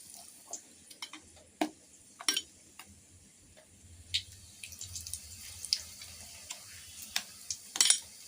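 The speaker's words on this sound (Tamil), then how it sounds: "வாழைக்காய் இது மாதிரி பஜ்ஜி மாவில் முக்கிட்டு நம்ம போடலாம்." Raw banana slices dipped in bajji batter frying in hot oil in a kadai, making faint, scattered crackles and sharp little pops over a quiet, low sizzle, with no talk.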